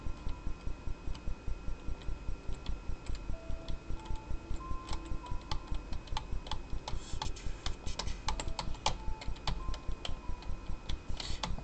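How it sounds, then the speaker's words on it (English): Rapid, steady clicking of a computer keyboard during a pony-themed online video game session, close and continuous throughout, with faint game sounds and tones in the background. "I'm sorry if you guys are hearing a lot of clicking."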